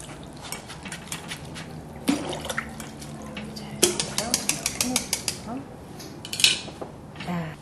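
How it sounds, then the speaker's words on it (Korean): Cooked noodles are rinsed under cold running water in a kitchen, with steady splashing and frequent clinks and clatters of a metal pot and utensils. "이거를 찬물에 헹궈 주세요"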